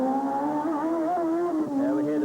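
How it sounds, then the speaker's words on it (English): Formula 1 race car with a BMW turbo engine at the 1984 Detroit Grand Prix, a steady loud whine with shifting pitch as it comes up into the chicane, continuous and close. "There we hear the whistle of that BMW turbo engine as he comes up here."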